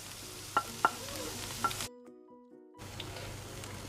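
Vegetables going into an omelet cooking in a pan, giving a gentle sizzle with a few sharp clinks of a utensil, then a brief near-silent gap before the frying resumes.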